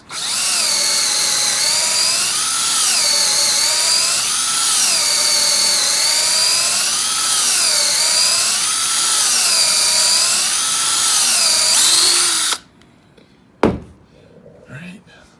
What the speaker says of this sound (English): I find that it's best not to drill too quickly